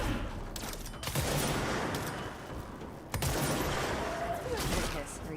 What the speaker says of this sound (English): Oh, they shoot.